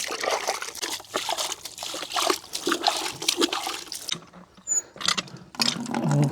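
Water runs from a repaired outdoor tap, a steady trickling and splashing stream that carries on throughout, briefly dropping away near the middle before resuming close to the microphone.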